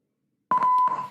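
A single short electronic beep from a QFX PBX Bluetooth speaker reaching maximum volume, clear and steady, sounding alone after a moment of silence.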